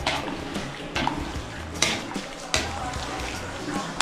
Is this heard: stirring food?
yes